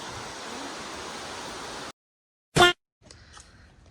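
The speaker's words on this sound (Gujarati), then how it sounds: "પાણી એટલું આવે છે ને એનો અવાજ" A waterfall's water rushes as a steady, dense, close roar for about two seconds, then cuts off abruptly, followed by a brief sharp click and faint residual noise.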